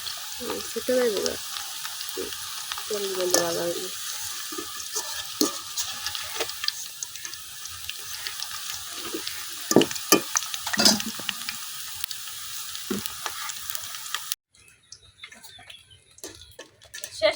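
Chanachur snack mix fries in oil and is stirred, giving a steady close sizzle with scattered scrapes and clicks and a few brief voices near the start. The sound drops to near quiet at the end.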